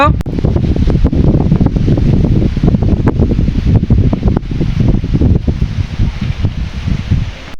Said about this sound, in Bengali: এখন যে আমি হাঁটতেছি এত বাতাস